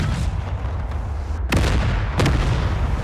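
Two booming cannon blasts of canister shot from Napoleon: Total War artillery, the first at about the midpoint and a second shortly after, over a steady rumble of battlefield noise.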